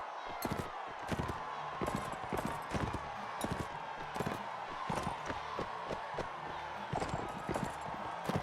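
A horse gallops in Mount & Blade set in Calradia, with rapid rhythmic hoofbeats thudding steadily and fairly near, mixed with a faint game backdrop and no talk.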